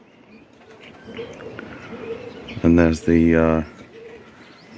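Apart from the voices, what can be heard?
pigeons cooing and flapping in an aviary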